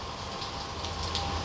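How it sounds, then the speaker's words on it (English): Steady rain falling outdoors on a wet day in New Orleans, a constant broadband hiss with faint patters of drops, fairly close and continuous with no voices over it. "at the moment it's raining"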